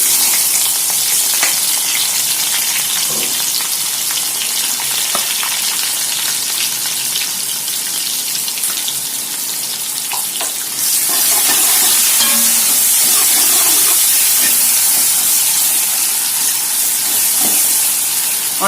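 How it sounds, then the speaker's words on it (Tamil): Onion frying in well-heated oil for vada curry gives a loud, dense, continuous sizzle and hiss up close, growing brighter partway through, with faint stirring beneath. "ஆயில் நல்லா ஹீட் ஆயிடுச்சு. இப்போ இது போட்டுக்கலாம். இப்போ ஆனியன் போட்டுக்கலாம்."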